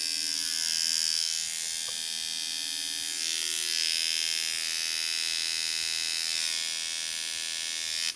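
A tattoo machine fitted with a Tatsol traditional 7 liner cartridge runs at 5 volts, a steady high-pitched electric buzz held close and continuous for several seconds with no talking.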